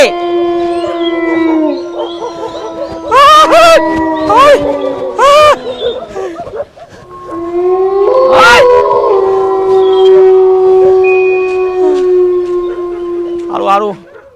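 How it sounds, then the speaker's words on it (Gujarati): A dog howls in long rising wails, with a few sharp barks, close by and loud; people talk over parts of it. "કૂતરો તો ભમામ ભામ ઉડાવે છે"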